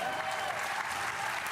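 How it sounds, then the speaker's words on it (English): Steady applause from a large audience fills the whole stretch, dense and continuous without breaks. "Why the fuck are people clapping for today?"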